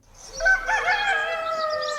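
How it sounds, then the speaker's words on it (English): A rooster crows once, a loud, clear cock-a-doodle-doo that rises and then holds a long, drawn-out final note, heard alone. "Rooster."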